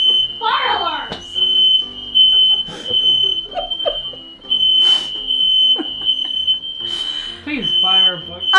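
A smoke detector shrieks a steady high-pitched alarm tone through the whole scene after a Thanksgiving cooking fire, continuing loudly beneath excited voices and shouting.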